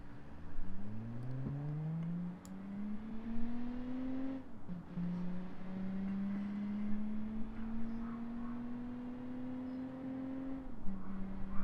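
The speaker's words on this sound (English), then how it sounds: "just max rev it and see how this goes" Simulated car engine in the Automation game revving to its limit, a clear tone rising through gear after gear in long sweeps, heard alone and fairly quiet.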